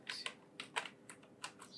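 Typing on a computer keyboard into a plugin search box, a quick run of about eight light, close key clicks in short bursts, faint and alone.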